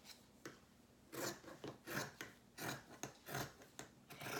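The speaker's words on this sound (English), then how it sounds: "I will do a little trimming." Scissors trim the fabric edge of a handmade makeup bag, giving a series of short, soft rasping snips close by and quiet, spaced unevenly with brief pauses between cuts.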